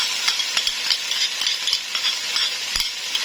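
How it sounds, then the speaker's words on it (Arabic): Rice and lentils are stirred in a pot for Egyptian koshari, with a steady hiss of frying and scraping, rattling strokes of the spoon repeating every half second or so, close up with no talk. "هننزل بالرز بتاعنا وهنقعد نقلب كده، وهننزل بالعدس كمان."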